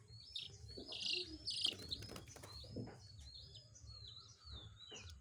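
Chicks chirp in repeated high, thin peeps over a low background rumble, with a few louder calls near the start and steadier chirping throughout, close by in a home where chickens and cats stay together.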